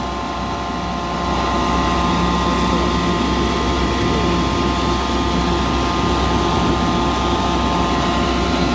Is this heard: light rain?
no